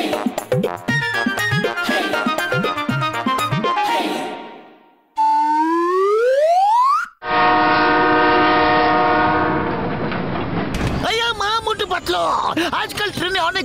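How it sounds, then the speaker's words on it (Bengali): A cartoon train, from Motu Patlu, departs amid loud sound effects: horn blasts, rising whistle sweeps and rattling clatter, mixed with music and close, busy layers. "তোমার ট্রেন তো চলে গেল"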